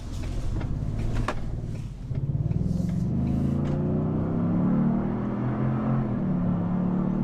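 2020 Ford Expedition FX4 with a twin-turbo V6 accelerating: a low engine drone that swells and climbs steadily in pitch, heard from inside the cabin at moderate level, no talk.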